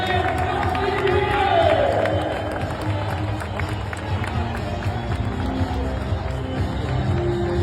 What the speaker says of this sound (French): merci d'applaudir Louis et d'applaudir pour cette finale dans la campagne de la Crédit Agricole.